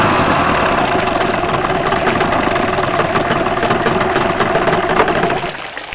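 A Yamaha outboard motor runs steadily at a loud, even idle with a choke pulled, then sputters and drops off near the end as it runs out of gas.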